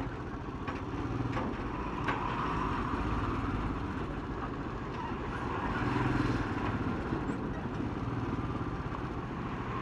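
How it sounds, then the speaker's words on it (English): A tractor engine chugs steadily on a rough road on the way to Agra, a continuous low rumble that holds level for about ten seconds with faint traffic mixed in. "Tractor."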